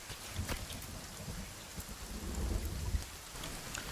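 Steady rain falls in the survival video game Sons of the Forest, a soft continuous hiss with faint distant thunder rumbles and scattered drips, fairly quiet and without speech.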